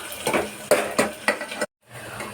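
Onions and curry leaves sizzle steadily in oil in a pan while being stirred, with several clinking scrapes of the spoon before a brief cut to silence and a return of the frying hiss.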